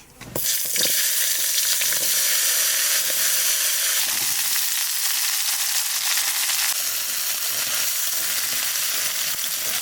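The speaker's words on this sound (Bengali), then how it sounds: "তেজপাতা, লং, দারচিনি, এলাচ। এইবার দিয়ে দেবো ছাঁচি পেঁয়াজ।" Loud, steady sizzle as spring onions hit hot oil with bay leaf, cloves, cinnamon and cardamom for a village-style duck curry, a sharp hiss bursting in at the start and continuing strongly without talk.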